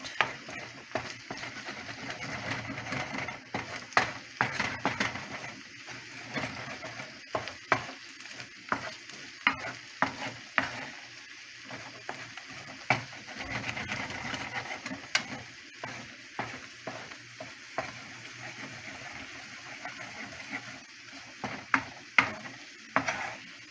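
Egg being stirred in a hot pan while cooking fried rice, with steady sizzling under repeated scraping and stirring strokes that come close and fairly loud, with no talk.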